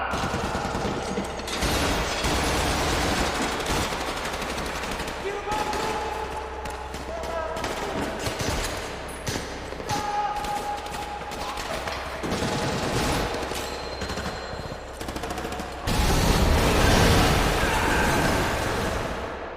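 Gunfire fills a battle between a SWAT team and ISIS fighters in a film, with dense volleys of rapid shots and mechanical clatter running without a break and swelling louder near the end.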